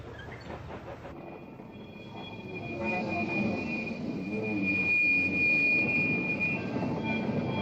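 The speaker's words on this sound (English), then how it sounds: "Another battery loco, this one dating from 1916, shunted a biscuit factory on the outskirts of Liverpool." A 1916 battery locomotive shunting wagons at a biscuit factory on the outskirts of Liverpool: steady rail rumble and rolling wheels, with a thin, sustained wheel squeal growing louder as it moves closer.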